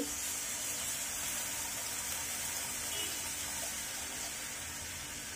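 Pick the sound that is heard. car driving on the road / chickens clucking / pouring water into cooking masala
pouring water into cooking masala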